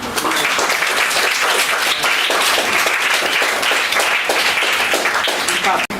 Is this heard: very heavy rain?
no